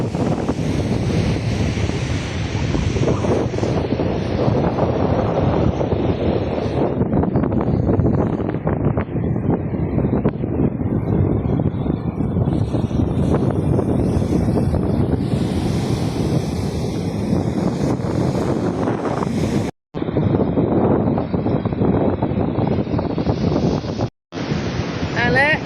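Wind and surf on a sea beach near Fujairah, a loud steady roar of waves with heavy wind buffeting the microphone and two short dropouts near the end.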